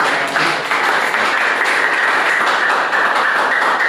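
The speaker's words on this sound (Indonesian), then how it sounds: "aplaus buat narasumber juga ya" Students in a lecture class applaud a guest speaker, a steady dense clapping that holds evenly from start to end, fairly loud and without talk.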